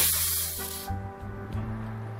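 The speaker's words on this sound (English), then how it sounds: "Open the bleeder valve." Compressed air bursts from an opened bleeder valve on an SCBA cylinder line during a cascade fill, a loud broadband hiss for about half a second that then cuts off, leaving low hum and faint clicks.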